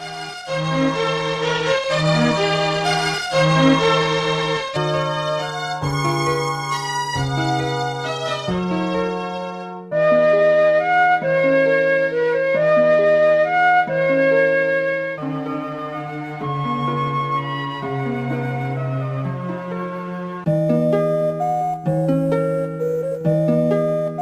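The Legend of Zelda lullaby theme plays as a gentle, lilting melody on soft synthesized instruments, a slow three-beat tune repeating its phrases steadily with no voices.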